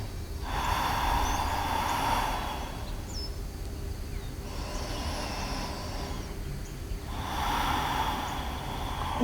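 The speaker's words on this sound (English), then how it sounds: "I'm going to take 3 deep breaths here." Three slow, deep breaths are taken in a yoga child's pose. Each one is a long, close airy exhale or inhale, spaced evenly over a steady low background hum.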